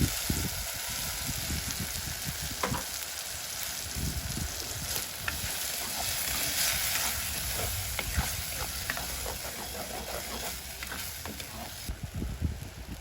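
Onions and ground tomato sizzle in a frying pan, a continuous close hiss of frying with occasional stirring scrapes and small pops, even and moderately quiet throughout.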